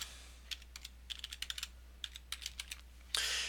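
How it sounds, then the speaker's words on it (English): Typing on a computer keyboard in a quiet room, a quick run of crisp clicking keystrokes in uneven bursts, close and alone, ending in a louder broadband rustle. "just click on that and type in twitter.com."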